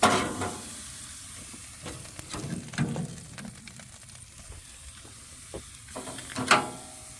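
Steaks sear in a pan with a low continuous sizzle, broken by scattered clicks and scrapes of handling, close and quiet with no talk.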